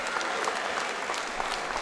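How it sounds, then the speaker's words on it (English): Boxing crowd after a heavyweight fight clapping and cheering on their feet, a dense, continuous roar of applause that fills the whole stretch without a pause. "Crowd are on their feet. They're all going absolutely mental."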